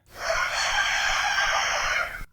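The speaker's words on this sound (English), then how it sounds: "That rooster is in bad shape." A rooster in poor condition gives one strained, hoarse crow that holds for about two seconds, close and clear with no talk over it.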